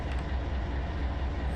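A heavy freight container train rumbles along a curving uphill grade in Run 8 Train Simulator. The low, steady roll and rumble is close and continuous, with no pauses.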